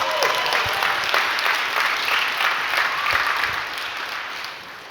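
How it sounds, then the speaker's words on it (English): Audience clapping at a software roadmap conference presentation, a dense burst of applause that holds steady and then tapers slightly toward the end. "give a round of applause if you like it"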